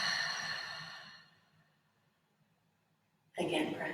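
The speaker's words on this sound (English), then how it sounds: "We're going to exhale all that air out." A deep, breathy exhale during a stretching and breathing exercise, long and close, fading into near silence before a second sharp breath starts at the end.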